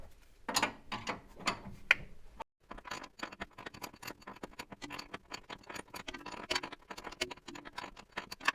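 A hand ratchet clicks rapidly and steadily as it tightens a nut on the steering of a C3 Corvette. The mechanical clicking is close and continuous apart from one brief pause, with no talking.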